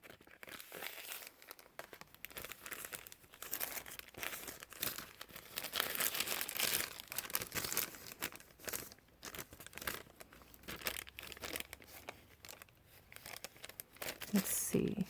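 Homemade tape being handled and torn while working on altered playing cards, with close crinkling and crackling rustles and a few sharper tearing bursts, under intermittent talk.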